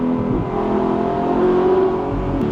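A tuned V8 supercar engine, stage 1 tune around 445 horsepower, revs high and steady with a loud, sustained buzzing note close by, no talking over it.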